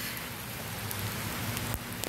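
Steady outdoor rain on a cold day, a dense even hiss of drops falling close by with a few sharper splashes, no voices.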